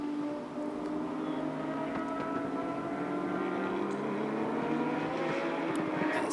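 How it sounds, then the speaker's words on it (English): Porsche race cars on a formation lap at Sepang circuit, with a steady engine drone whose pitch slowly climbs as the cars pull away together, heard from a distance and with no talk. "As they take their machines out on this formation lap, rather a warm-up lap."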